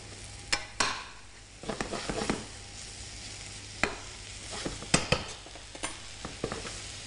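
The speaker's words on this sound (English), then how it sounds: "we're going to keep that pan moving either with a spoon, or you can give the pan a little toss as well, just to keep those mushrooms from sticking to the bottom" Mushrooms frying in a pan for risotto, with scattered scraping stirs of a spoon and light sizzling bursts, plus a steady low hum underneath; no talking.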